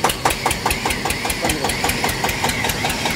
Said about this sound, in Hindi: भाई, देखो ट्रैक्टर बोल रहा है